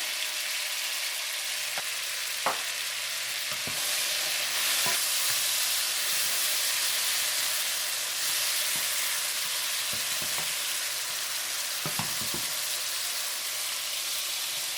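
Shrimp, tomato and eggs fry in a pan with a steady, bright sizzle. Scattered soft clicks and taps of a utensil break into it now and then.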